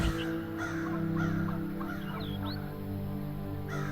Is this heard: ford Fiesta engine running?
no